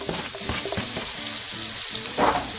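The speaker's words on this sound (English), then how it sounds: "this is where you're going to throw your shallots and your garlic in" Shallots and garlic sizzle in a hot skillet on a stovetop while potatoes are being made. A steady, close frying hiss runs throughout, with faint stirring clinks and a brief louder flare of sizzle near the end.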